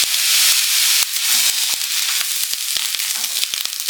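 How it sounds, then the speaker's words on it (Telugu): Chicken fried rice sizzles loudly in a pan over a high gas flame after soy sauce is added, a dense steady hiss broken by sharp scraping clicks as it is stirred, with no voices. "సోయా సాస్ వేసిన తర్వాత మనం మరలా గ్యాస్ హైలో పెట్టుకొని బాగా మిక్స్ చేసుకుందాం."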